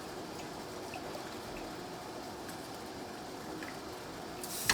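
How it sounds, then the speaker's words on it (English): Brine being stirred for canned dilly beans: a steady, close swishing and trickling of liquid runs evenly throughout, ending in a brief louder splash or clink. "Gotta stir the brine."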